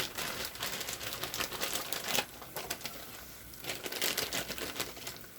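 Continuous crinkling and rustling of a plastic bag of frozen food, close and moderately loud, with irregular bursts of crackle and no talking.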